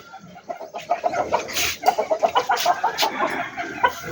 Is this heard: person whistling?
no